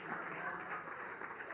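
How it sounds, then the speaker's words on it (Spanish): Steady audience applause fills a church, a faint continuous patter of many hands clapping at a distance with no break. "Give him a round of applause."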